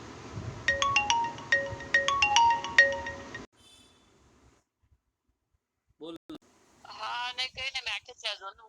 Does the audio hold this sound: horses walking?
no